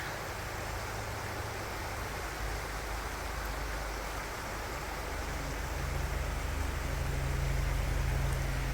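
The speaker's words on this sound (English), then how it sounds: "This would be the Cuyahoga River." The Cuyahoga River flows steadily in the background of an outdoor trail setting, a soft continuous wash of moving water that swells a little louder toward the end, with no one speaking.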